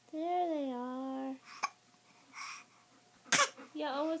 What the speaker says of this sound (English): Oh, those hiccups. Those sticking hiccups.